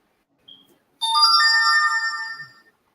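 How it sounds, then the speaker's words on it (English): A phone ringtone plays a loud, bright electronic melody of stacked tones for about a second and a half, following a brief short chirp, with silence around it. "Is that your phone or my phone?"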